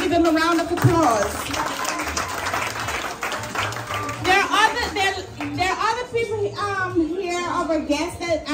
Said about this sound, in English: Let us put up a hand and give him a round of applause.